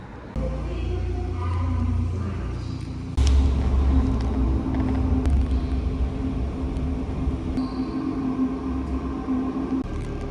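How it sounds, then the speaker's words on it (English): A simulated bus in a civil rights museum exhibit gives off a steady low engine rumble and road drone with a sharp jolt partway through, while muffled voices sound faintly in the background. "So I'm on a simulated bus right now"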